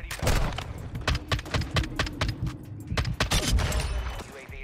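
EBR-14 marksman rifle fire in Call of Duty Modern Warfare II, a dense run of loud, punchy shots in quick succession with thumping low ends, over game ambience.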